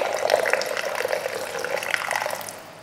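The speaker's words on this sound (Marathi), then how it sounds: "थोडंसं आपल्याला ह्याच्यात पाणी ओतायचंय." Water poured steadily into a pan of garlic fenugreek curry, a close continuous splashing trickle that tapers off at the end.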